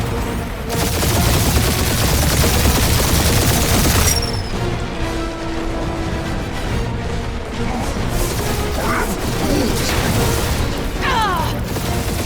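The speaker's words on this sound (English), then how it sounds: "Keep up the barrage. They will not survive it." A gunfire barrage in the PS5 game Marvel's Guardians of the Galaxy, with loud, dense, continuous shooting and booms mixed with mechanical clatter and game effects, close and sustained throughout.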